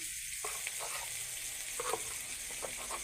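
Onions fry lightly in a pan with a steady soft sizzle, and a few faint stirring scrapes come through over the continuous hiss.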